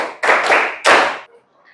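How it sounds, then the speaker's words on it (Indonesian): A classroom of students clapping in unison, two loud bursts of many hands with a short gap between them, ending abruptly with faint room noise. "Oke, tepuk 5."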